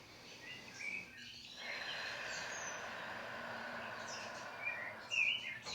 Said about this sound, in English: the birds get all hyper and they distract me